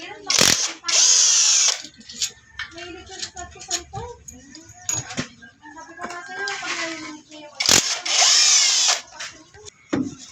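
An impact driver or power drill spins bolts out of a Bajaj motorcycle's clutch cover in loud whirring bursts, with quieter clicks and shop noises between them.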